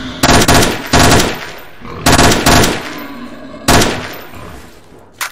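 Loud bursts of automatic gunfire aimed at mutants in S.T.A.L.K.E.R.: four close, rapid volleys separated by short pauses, with a final brief shot at the end.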